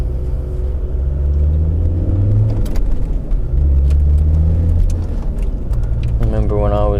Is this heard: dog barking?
no